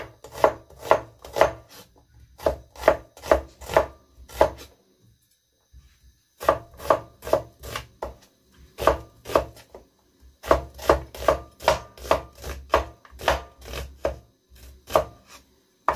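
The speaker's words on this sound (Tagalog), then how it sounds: "Hiwa tayo ng sibuyas." Rapid rhythmic knife chopping of onion on a cutting board, close and crisp, in quick bursts of strokes separated by short pauses, with no talking.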